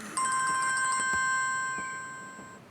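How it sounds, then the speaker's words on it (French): A mobile phone ringtone plays a bright repeating electronic chime with steady sustained tones, fairly clear and alone, fading slightly toward the end. "Tiens, ton téléphone sonne."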